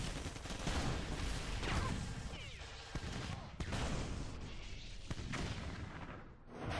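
Cannons in the tower defense game AOD: Art of Defense fire repeatedly into a lane, a dense run of booming shots and sharp cracks over a constant battle din, fairly loud.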